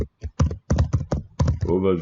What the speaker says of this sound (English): Sorry about my keyboard, rather noisy.